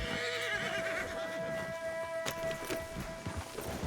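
In the video game Red Dead Redemption 2, a horse clip-clops with hoof beats and lets out a whinny, heard fairly quietly under a low steady game tone with a few sharper thumps near the middle.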